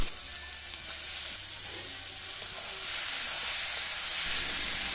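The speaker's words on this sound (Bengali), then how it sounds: "এর মধ্যে মাংস তুলে দেব" Mutton pieces hit hot spices in a pan and sizzle with a continuous close hiss, swelling slightly louder toward the end.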